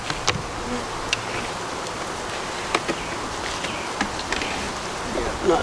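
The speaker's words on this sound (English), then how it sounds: "You can hear them fanning, they know they're queenless." Honey bees in a queenless cell builder hive fan their wings in a steady, close droning hum, broken by brief faint clicks and knocks of nearby hive handling.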